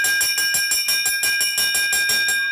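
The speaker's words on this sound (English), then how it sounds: "That's the bell lap." At a US Championships race, a bell is rung rapidly for the final lap, a bright metallic clanging repeated about four times per second, loud and continuous with no talk.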